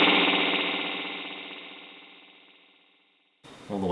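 Electric guitar through a Fractal AX8 spring reverb with the tone control all the way up, a bright sustained chord washing out and fading slowly to near silence before a new note begins.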